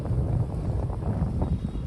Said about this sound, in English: the wind is just ridiculous